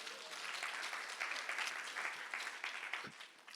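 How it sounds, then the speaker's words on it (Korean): A church congregation applauds during a Sunday worship service, a full dense burst of clapping that holds steady and then thins slightly toward the end. "하나님께 영광의 박수 한번 줄까요?"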